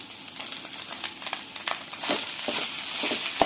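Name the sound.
sautéing spinach (palak) in a pan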